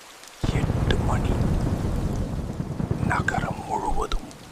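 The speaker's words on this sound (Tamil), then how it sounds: "நகரம் முழுவதும் கனமழை, இடியுடன் கூடிய புயல், வெறிச்சூடிய தெருக்கள்." A heavy downpour with thunder rumbling through a night storm over a city, the rain hissing steadily and loudly while a voice talks softly over it.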